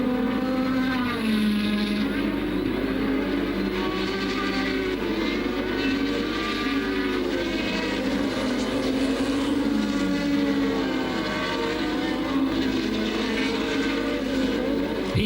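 Williams Honda Formula 1 car at the 1987 Hungarian Grand Prix, its engine droning loud and steady with rising and falling pitch as it runs toward the final corner, continuous throughout with crowd and track ambience behind it.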